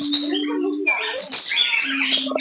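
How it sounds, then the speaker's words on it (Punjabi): A cockatiel at Chhatbir Zoo gives bright, shrill chirps and whistles up close, overlapping rapid calls with a faint steady hum underneath. "ਸਲੇਟੀ ਕੋਕਾਟੀਲ ਹੈ ਬਹੁਤ ਹੀ ਪਿਆਰੇ ਪੰਛੀ ਨੇ"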